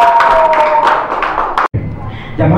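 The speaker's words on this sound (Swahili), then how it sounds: "Tupige makofi tena jamani." An audience at a school event for children with disabilities bursts into sustained hand clapping that fills the whole stretch, with a brief dropout near the end before the applause picks up again.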